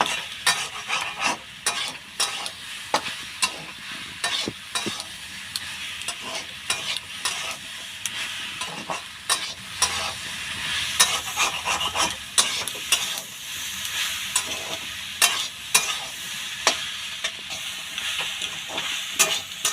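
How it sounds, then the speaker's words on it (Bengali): Chalta pickle frying in a pan with turmeric and salt, stirred with a spoon: steady sizzling overlaid by rhythmic scraping strokes, close and fairly loud, with no voices. "দেবো আর একটু হলুদ, এটা আর একটু নেড়ে ছেড়ে নেব।"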